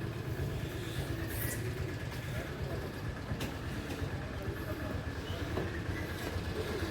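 A train at Ranchi railway station on a foggy winter day gives a steady low rumble of rolling stock and engine, with a faint horn-like tone and station bustle, and voices murmur in the background.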